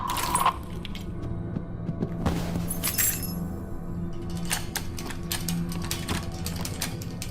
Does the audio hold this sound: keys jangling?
yes